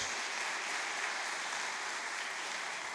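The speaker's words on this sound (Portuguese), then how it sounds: "Dá para glorificar, aplaudir a Jesus por isso?" Church congregation applauding, a steady, moderately faint wash of many hands clapping that holds evenly throughout, without voices over it.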